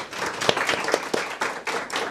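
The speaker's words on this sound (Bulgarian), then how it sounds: "вашите аплодисменти за Силвия Налбантян." Applause from an audience, a steady wash of clapping with a few sharper claps standing out, fairly close and continuous throughout.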